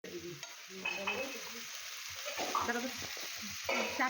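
Shrimp and spices frying and being stirred in a pan for a Bengali prawn dish, a steady close sizzle with scraping stir strokes throughout, no talking.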